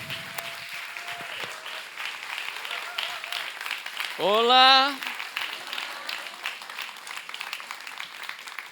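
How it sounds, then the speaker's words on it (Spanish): Continuous crowd applause at a church service, steady and moderately loud throughout, while a voice calls out a brief greeting over it. "Reciban con un aplauso fuerte"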